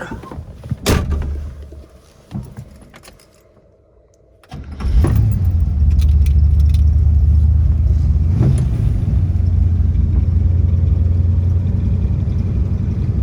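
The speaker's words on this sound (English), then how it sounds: "here we hop in and fire it up for you guys" 1963 Corvette Split Window, original car, cranked and fired up: some clicks and key sounds, a short pause, then the engine catches with a loud burst and settles into a steady, deep idle.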